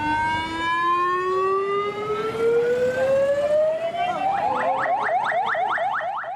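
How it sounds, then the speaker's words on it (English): Ambulance sirens in Galle, Sri Lanka's coastal tourist hub, wail in a long rising sweep, then switch to a rapid yelping warble, loud and close. "Ambulances screech through Galle, Sri Lanka's coastal tourist hub"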